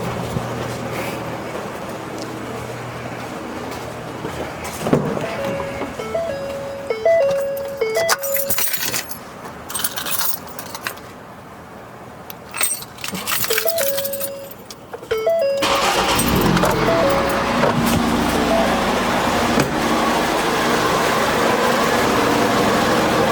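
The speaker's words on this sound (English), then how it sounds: "Now I gotta go crank the car." A neglected Chevy C10 square-body pickup truck is cranked over for a first start attempt, with keys jangling and a starter grinding in repeated bursts before the engine noise steadies into a louder, continuous running sound.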